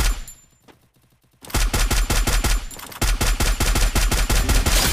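Rapid bursts of automatic gunfire in a ranked solo-versus-squad battle royale game, loud and closely spaced, starting after a short quiet opening and continuing with a brief break, with no talking.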